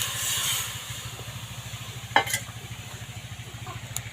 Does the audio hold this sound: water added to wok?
yes